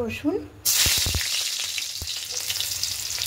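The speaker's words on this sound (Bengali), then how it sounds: "এবার কড়াই বেশ কিছুটা সরষের তেল দিয়েছি। এবার এখানে ফোড়নে দেবো" Spices for tempering, such as garlic and dried red chillies, hit hot mustard oil in a kadai and burst into a loud, steady sizzle with a few sharp crackles, right after a brief moment of talk.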